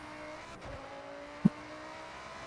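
A Lamborghini at full throttle in the racing game Forza Horizon: a fairly faint, steady engine drone with one sharp click partway through and no talking.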